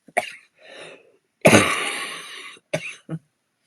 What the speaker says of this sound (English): Oh, I need to cough.